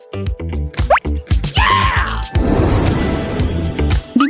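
Small drops of liquid, soda with a chocolate flavour, fall in quick plopping drips at first, then give way to a fizzy, gushing spill, close and clear.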